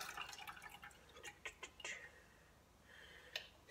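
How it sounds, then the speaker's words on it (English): Cooked carrots being drained, with water trickling and dripping in quiet, uneven spurts and a few soft splashes, no voices. "Remember, you do need to drain the carrots."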